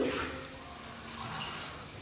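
A little water poured into ground spices including coriander powder in a cooking pot, a soft steady trickle and hiss at low volume with no talk.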